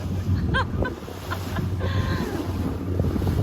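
Ocean waves surge and wash steadily under strong wind rumble, with a brief voice and a few faint tonal squeaks near the start.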